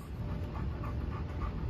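A dog pants in quick, steady breaths close by, set against a low background hum.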